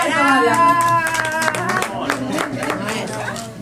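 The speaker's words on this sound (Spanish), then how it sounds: "Un aplauso enorme para Ale" Clapping from an audience at a magic show using mobile phones, a brisk patter of hands from a small crowd mixed with a voice talking over it.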